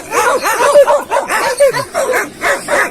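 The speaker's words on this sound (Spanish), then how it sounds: "después de la conversación de estos perritos unos con otros, ahí está la Perla subiéndose al árbol." Several small dogs yip, whimper and bark back and forth at close range in a lively, continuous exchange, one of them a fluffy, wolf-like dog.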